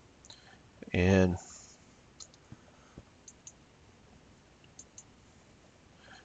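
A computer mouse clicks several times, small sharp ticks spread out across the stretch, close and faint, with a brief burst of talking early on.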